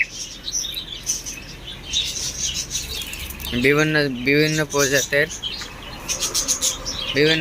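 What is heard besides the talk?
pet birds chirping, budgerigars and cockatiels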